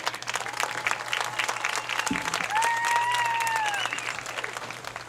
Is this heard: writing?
no